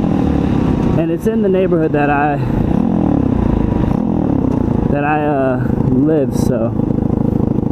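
A Tao Tao 140cc Chinese dirt bike, ridden clutchless through a residential neighborhood, drones steadily with a rising engine note, heard close under continuous talking.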